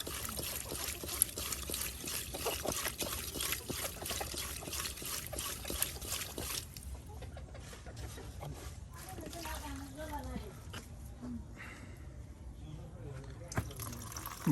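Small fish being washed with salt in water by hand, with splashing, trickling and sloshing of water running throughout at close range, with a voice speaking over it.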